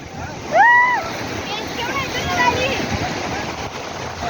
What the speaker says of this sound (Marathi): पाटील आपण आलेले आहे बीचवरती.